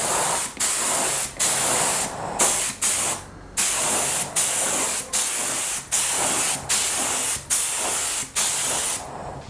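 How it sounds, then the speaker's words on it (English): A paint spray gun hisses in steady bursts while painting custom tail lights, each spray lasting close to a second with short pauses between, close and loud with no talking. "I'm going to be using a paint gun with some paint that we have mixed here"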